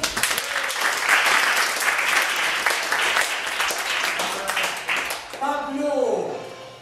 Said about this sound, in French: Applaudissons-les très chaleureusement